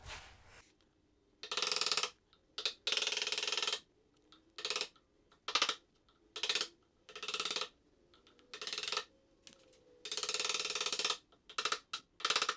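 A wood chisel working out waste from the middle of a woodworking joint gives a series of separate, dry scraping and paring strokes of varied length, close and fairly loud, with short quiet gaps between them.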